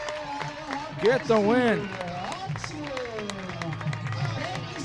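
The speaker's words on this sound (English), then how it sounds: "They can hear the Hawkeye crowd" Hawkeye crowd cheering at the end of a softball game as Iowa wins, a swelling roar of applause and shouts under an announcer's excited commentary.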